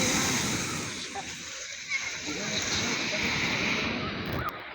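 Sea waves wash and splash continuously on a shore, fairly soft and steady, with faint voices in the background.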